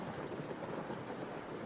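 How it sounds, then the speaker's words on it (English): Steady rain ambience, a continuous dense hiss of falling rain with a low rumble, even in loudness and with no talk. "I'll make the rain sound a little quieter then."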